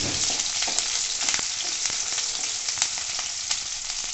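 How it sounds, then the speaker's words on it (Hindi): Steady crackling sizzle of garlic and green chili frying in hot oil over a medium gas flame, with sharp pops scattered throughout, close and fairly loud, no voices. "इस तरह से जब हम गरम तेल में हरी मिर्च डालते हैं"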